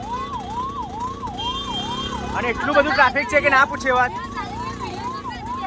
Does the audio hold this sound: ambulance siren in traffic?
yes